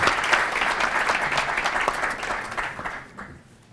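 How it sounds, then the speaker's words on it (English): Sustained applause from a crowd, steady clapping throughout that fades out toward the end. "Let's give them an applause."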